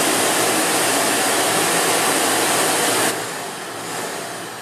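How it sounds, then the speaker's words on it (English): A Philips PowerPro Compact FC9352/01 bagless dry vacuum cleaner runs with a loud, steady high-pitched whooshing roar that drops to a softer level partway through, with no voices. "Initially, you might find this vacuum cleaner a bit noisy, but its suction power is really very good."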